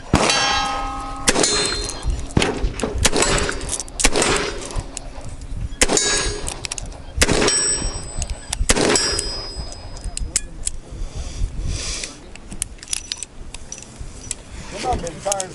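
Sharp, loud gunshots from a 5.7x28 firearm at an outdoor shooting range ring out at irregular intervals, each a hard metallic crack with ringing decay, while people talk nearby between the shots.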